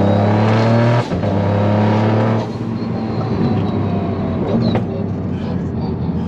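A 300 kW Toyota GR Yaris Rallye Edition street car with a sequential gearbox accelerates hard on medium boost, its engine roaring loud and close from inside the cabin, with a brief gearshift dip.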